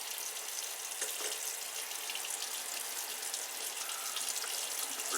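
Razor gear rinsed under a hot running tap: a steady, close hiss of water streaming and splattering into a sink, constant throughout with slight shifts as the items move under the flow.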